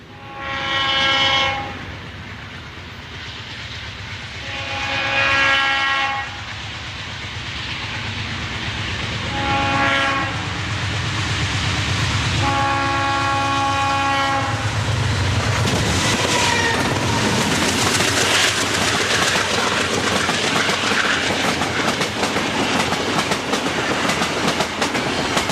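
An NJ Transit U34CH diesel locomotive on the old Erie Main Line pulls away from Broadway Fairlawn station, opening with several loud horn blasts before the engine's rising roar and clattering wheels build into a steady, close rumble.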